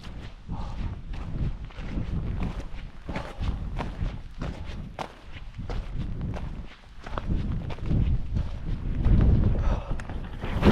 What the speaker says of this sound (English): The wind is horrendous